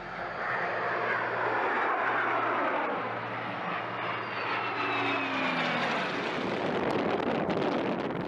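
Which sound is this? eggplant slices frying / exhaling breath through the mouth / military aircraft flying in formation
military aircraft flying in formation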